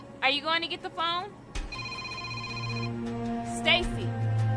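A telephone rings indoors with a bright electronic chime in sustained tonal bursts, two ring cycles separated by a short pause. A voice speaks briefly before and between the rings.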